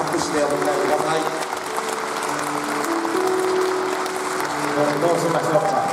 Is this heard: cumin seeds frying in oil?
no